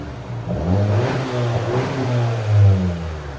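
A 2020 Honda Civic Sport with the 2.0L turbo engine and its resonator and muffler removed revs in a short, loud, close burst, a deep droning exhaust note that rises and swells near the end.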